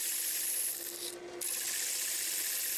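A wood lathe spins a spalted maple sphere with a continuous close abrasive rubbing and hiss as the tool scrapes the wood, with a brief lighter dip partway through.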